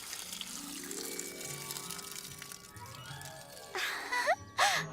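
Water pours onto pumpkin plants in a cartoon scene, a steady splashing stream running for several seconds under a soft musical bed, swelling louder near the end with a couple of brighter gushes.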